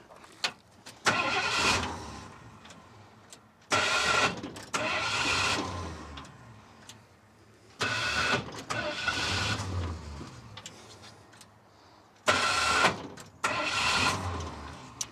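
An abandoned 1976 Ford F250 crew cab truck, fuel-starved after twenty years, cranks repeatedly in four loud, close bursts of rhythmic starter churning, each lasting a few seconds and separated by quiet pauses, never catching.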